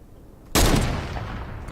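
A single loud gunshot in the video game Fortnite bursts out of a quiet background, followed by a long, slowly fading tail.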